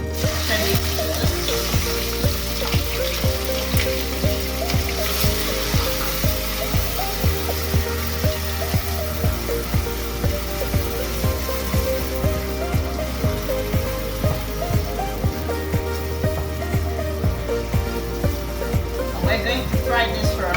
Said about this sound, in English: We're going to fry this for a little while.